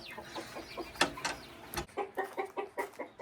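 A hen clucks in a steady series of short, regular calls, fairly close and clear, after a few scattered squawks and rustles.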